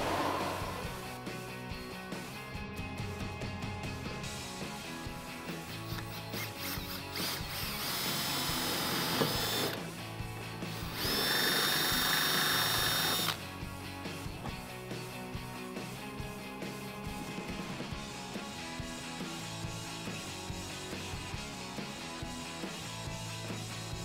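A power drill whines steadily in short bursts drilling a hole in a Jeep Wrangler JL fender, with a louder high-pitched stretch mid-clip, surrounded by clattering workshop noise and no talking.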